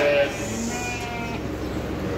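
A sheep in a fattening barn lets out a short, wavering bleat at the start, then the bleat trails off into low barn background noise.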